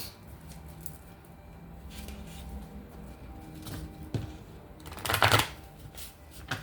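A special deck of cards for a reading is shuffled by hand near the listener, with soft riffling patter and a louder, brief burst of card riffle near the end, all fairly quiet and with no talk.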